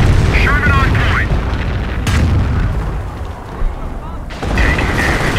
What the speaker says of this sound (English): Sherman. Fire main cannon.